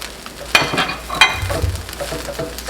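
Shrimp fry in a pan of coconut fried rice, a close sizzle broken by a few sharp scrapes and clinks of stirring.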